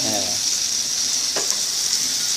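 Pad thai sizzles loudly in a hot pan as bean sprouts are added, a steady close crackle and hiss with a brief stirring scrape partway through.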